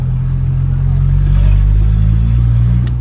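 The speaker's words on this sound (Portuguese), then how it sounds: "O barulho ficou muito grave" Up close, a Volkswagen Jetta TSI 2.0 with an exhaust diffuser runs with a loud, deep, steady rumble that swells slightly midway, a brief sharp click near the end.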